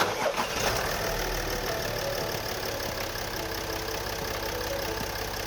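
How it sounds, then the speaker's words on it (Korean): A Land Rover engine idles with a steady, low, even rumble, close by and continuous, with no talking. "엔진 소리부터 들어보겠습니다"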